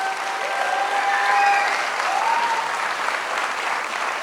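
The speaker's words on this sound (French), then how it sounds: "Vous pouvez l'applaudir parce que c'est quelqu'un de magnifique." Audience applause at a startup pitch ceremony, a dense, even clapping from a crowd that carries on steadily for several seconds with no speech over it.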